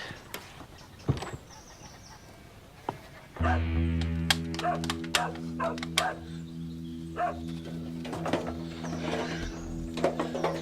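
A dog barks in bursts of sharp, repeated yaps, fairly close, after a quieter stretch of room sound, with a low hum starting partway through.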